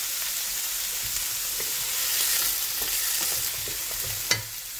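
Onions and curry leaves sizzle loudly over high heat in a constant bright hiss, with soft stirring scrapes running through it and one sharper clack near the end.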